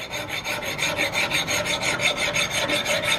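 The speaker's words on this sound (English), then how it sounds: "that's where we can come in with our file back sandpaper and we can clean that up." A muzzleloader butt plate being filed and sanded with a file-backed sandpaper, a close, steady rasping with rhythmic back-and-forth strokes, about a dozen evenly spaced passes with nothing else heard.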